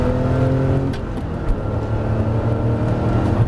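A Porsche 997 GT3 Club Sport engine roars steadily at high revs while accelerating, a loud, continuous growl with slight surges in pitch, close by and with no voices.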